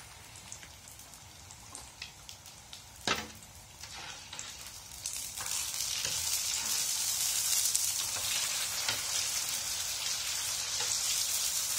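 Rice paper (bánh tráng) sizzles and crackles in hot oil, a dense, hissing fry with scattered pops. It grows louder and fuller partway through and continues steadily. No talking.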